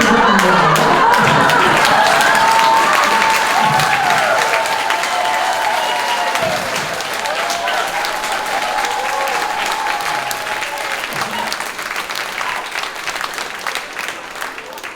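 An audience at a meeting breaks into loud, sustained applause, dense clapping that carries on steadily and slowly thins out toward the end.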